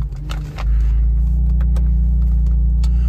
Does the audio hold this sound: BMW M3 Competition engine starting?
yes